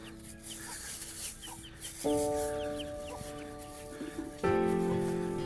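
Chickens cluck and call close by, several birds overlapping with steady sustained tones in the background.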